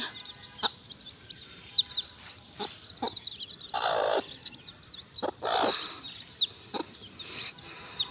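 Native hens cluck and call in short bursts around newly hatched day-old chicks, with bright chirps and broader squawks spread across the scene, fairly close and without talk.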